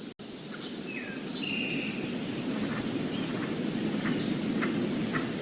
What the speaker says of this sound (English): Okay, so this is a forest sound.